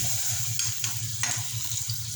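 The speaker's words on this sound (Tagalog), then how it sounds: "prito na ang daing na bangus" Steady sizzling of dried milkfish frying in hot oil, continuous and close, with a few soft clinks of a utensil against the pan.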